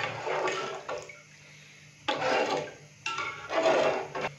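Yogurt and green mint leaves stirred into chicken pulao in a pot, giving three separate bursts of wet scraping and sloshing, close and moderately loud, with quieter gaps between them and no talking.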